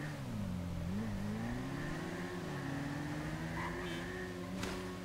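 A motorcycle engine in the game GTA V hums and revs steadily and close, its pitch wavering up and down as the throttle changes, with no talk over it.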